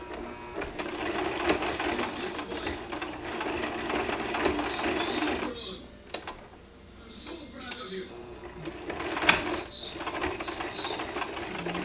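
A sewing machine runs zigzag stitching on a fabric letter A in rapid mechanical bursts, stopping briefly midway before resuming, close by with a person talking faintly over it.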